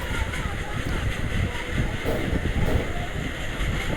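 Train running in the India Bike Rail 3D video game, a steady loud rumbling drone with rolling rail noise throughout, while a voice talks over it.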